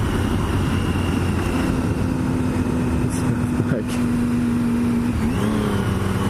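A KTM Super Duke 1290 motorcycle rides past, a steady loud engine drone with a rising rev and pitch shift near the end, heard up close without speech.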